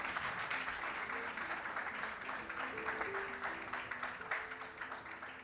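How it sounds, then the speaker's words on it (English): An audience at an SCMS Business School campus event in Kalamassery applauds for the panel, with soft, even clapping sustained throughout at a low level. "big round of applause for SCMS and our four panels"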